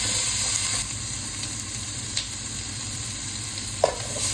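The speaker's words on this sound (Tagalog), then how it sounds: "Lutuin natin itong sibuyas muna hanggang lumambot" Onions sautéing in a pan before beef is added, a soft steady sizzle with a few sharp clinks of a utensil against the pan, close and without talking.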